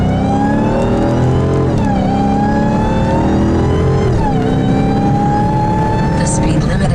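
A car's supercharger whines high and tonal over the engine as it revs, the pitch rising and dipping with throttle changes, loud and close with a voice talking over it.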